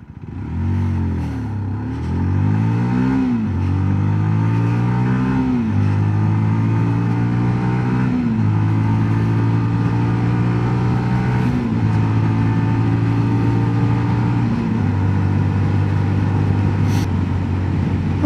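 A 2022 Sinnis GPX 125 motorcycle engine revs up and down through the gears while riding toward a roundabout, loud and close, with steady pitch climbs and drops between shifts.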